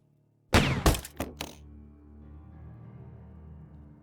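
A lamp in the adventure game Jack Keane is shot and breaks: a sharp crack and shatter followed by several quick clattering impacts, then a quiet lingering ring in the room.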